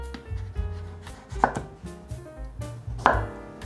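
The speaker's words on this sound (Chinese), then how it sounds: "把南瓜切成大丁状" Pumpkin being cut into large dice with a knife on a cutting board, a series of firm thuds and chops at uneven pace, two sharper cracks standing out, close and clear with no talk.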